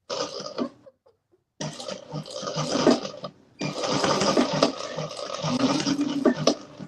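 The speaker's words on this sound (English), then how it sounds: "I'm top stitching without any bobbin thread" A sewing machine top stitching without bobbin thread runs in fast, rattling bursts, close and fairly loud, stopping briefly twice before starting again.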